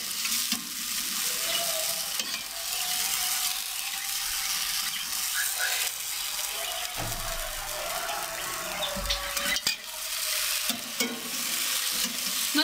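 Bechnikha pastries bubbling in hot oil give off a dense, continuous sizzle, with occasional scraping and clinks of a utensil moving them around.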